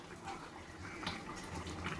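A potato, pointed gourd and prawn curry boiling in a pan at home, giving a soft, steady bubbling and simmering, faint and close, with no talk.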